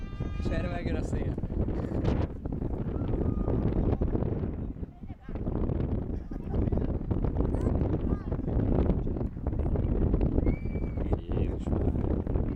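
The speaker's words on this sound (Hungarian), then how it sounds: "És erre megjön a szél." Wind gusts buffet the microphone outdoors at Budapest airport while waiting for an Airbus A380, a loud rumbling roar rising and falling throughout, briefly easing midway, with people talking over it.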